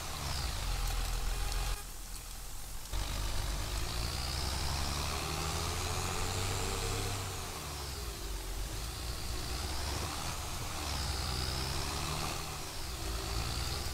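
A tractor engine in the video game Farming Simulator 22 idles and drones at mid volume, steady with slight pitch swells and a brief cut near the start, without speech.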